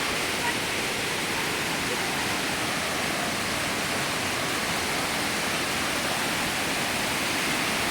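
Khlong Lan waterfall in Kamphaeng Phet, Thailand, roaring as a constant broadband rush of falling water, steady and close with no breaks.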